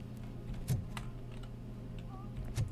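Buttons are pressed on a keypad in Robocop: Rogue City, with a few sparse, soft clicking taps spread over a steady background hum.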